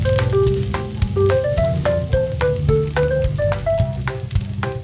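Garlic sautés in hot cooking oil with a soft, continuous sizzle that sits under a plucked, stepping music melody throughout.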